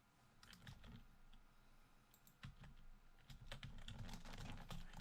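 Typing on a computer keyboard, a dense run of close, crisp key clicks in irregular bursts that grow busier toward the end, with no voices over it.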